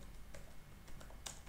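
Code is typed on a computer keyboard in quiet, uneven bursts of light key clicks, a few separate taps over a faint steady hum, with no one talking.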